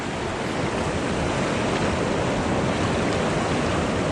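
Powerful river water rushes in a dense, steady roar, loud and close, with no pauses for the full length.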